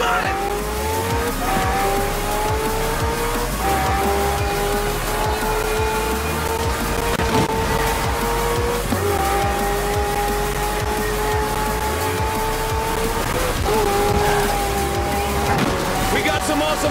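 Racing trucks and supercars including a Ferrari FXX K and a Bugatti Chiron roar through a video game race, loud sustained engines with gear-change steps, tire squeals and skids, and a voice talking over them.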